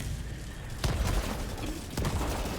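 Video game gunfire erupts in two sharp bursts during a fight against robots, over a continuous rumbling battle backdrop, moderately loud with no speech.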